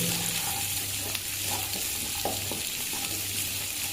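Steady sizzling of atukula upma (flattened rice) frying in a pan, with occasional scraping knocks from a utensil stirring; no one speaks.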